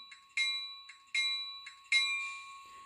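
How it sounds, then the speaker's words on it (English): The bell of a Union Pacific 1943 Spirit locomotive rings three times in an even rhythm, each clear metallic ding ringing on briefly, close and fairly loud with no voices. "I do like its bell."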